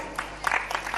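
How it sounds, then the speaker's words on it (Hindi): An audience claps at a Jain monk's religious discourse, short bursts of applause spread across the second. No voice is heard, and the clapping is moderately close. "ताली ऊंचे ऊंचे ही बजा दी"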